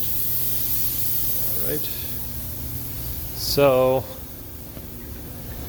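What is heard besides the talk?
spraying down a V10 machine with coolant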